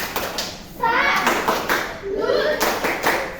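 Children in a classroom clap together during a maths lesson, in short close bursts of hand claps mixed with young voices.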